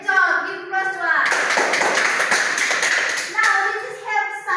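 A burst of applause from a classroom group during an English lesson, lasting a couple of seconds, bracketed by a voice speaking before and after.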